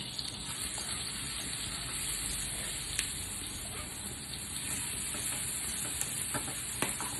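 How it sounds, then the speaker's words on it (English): Garlic and spring onion sautéing in melted butter in a pan, a constant dense sizzle with occasional light utensil clicks, close and steady throughout. "Now I am going to masukkan the bawang putih and the daun bawang."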